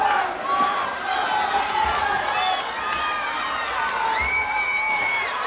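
A cheering section at the American Gladiators Season 3 grand championship goes wild, with loud whoops, shrill shouts and whistling cries rising over a constant roar of arena crowd noise.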